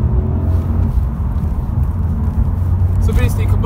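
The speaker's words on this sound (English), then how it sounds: "the acceleration is good for a 1 litre turbo engine" Low, steady engine and road rumble from a 2017 Honda Civic with a 1.0-litre VTEC turbo engine accelerating, heard from inside the cabin while someone talks over it.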